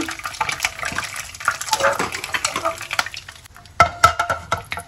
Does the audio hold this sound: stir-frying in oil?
yes